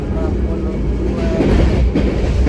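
The Sangkuriang passenger train runs on rails from Bandung to Ketapang Banyuwangi, with a loud, continuous rolling roar and wheel clatter heard from inside.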